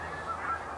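A goose honks outdoors, one or two nasal honks close by and fairly loud over steady background noise, with no talk.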